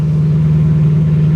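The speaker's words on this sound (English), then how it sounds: "we gotta turn the car on, but we gotta get a cold start" A BMW E92 M3 engine idles loud and close after a cold start, a steady, even hum with a strong low tone and a slight pulsing texture, heard alone.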